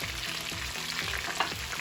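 Food sizzling in a hot frying pan while a Moroccan chicken and vegetable tagine is being made, a loud, close, continuous hiss with scraping stir sounds and a few sharp clicks.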